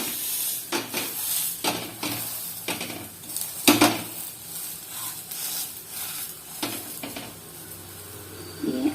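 Atta adai batter cooking on a hot pan, with a steady soft sizzle under repeated clinks and scrapes of a utensil against the pan, close and moderately loud, no voices.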